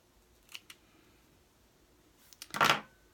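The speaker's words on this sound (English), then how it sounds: "And trim the threads." Scissors snip loose threads off a sewn fabric quiet book, with two light snips early, a stretch of quiet, then a louder close cluster of cuts at the end.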